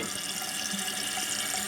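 Water runs steadily inside a toilet tank, leaking past a worn flapper into the bowl, a close continuous trickling hiss with no break and no talking.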